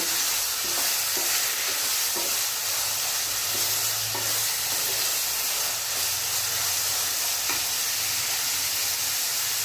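Vegetarian pasta ingredients stirred and mixed in a pan over a steady sizzle, with a run of soft scraping strokes at an even rhythm, close and fairly loud, no voices.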